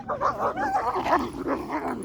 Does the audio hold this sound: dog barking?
yes